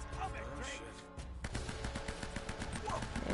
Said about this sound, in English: And there's a sniper over there.